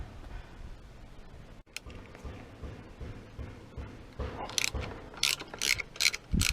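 Ratchet clicks on the triple tree bolts of a Honda CB500X motorcycle, short bursts of sharp metallic ratcheting that grow louder and quicker near the end over a low workshop background, with no voices.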